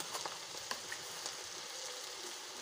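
Whole cumin seeds sizzle in hot oil for an Irani chicken karahi, making a soft, steady crackling hiss with faint pops. The sound is quiet and continuous, and no one speaks.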